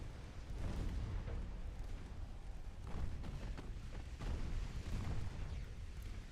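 Ammunition detonating aboard a warship in Ultimate Admiral Dreadnoughts, heard as a sustained low rumble of repeated booms and blasts, fairly loud and continuous, with no voices.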